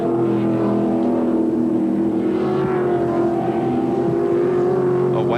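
Touring race cars from the 1996 ATCC round at Phillip Island roar past at close range, loud sustained engine notes with shifting pitch as they sweep by the camera.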